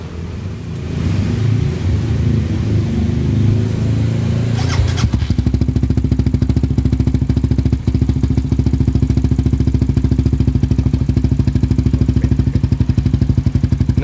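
Suzuki GSX R150 with a CLD Racing type C3 oval exhaust fitted with a dB killer, idling steadily and close with a rapid even putter; a louder rumble opens before settling at about five seconds.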